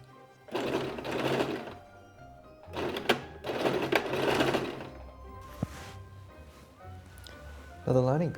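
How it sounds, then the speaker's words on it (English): A sewing machine stitches costume lining pieces in three bursts of rapid whirring, separated by short pauses, with small clicks and a brief voice at the end. "let's put these through the sewing machine, shall we?"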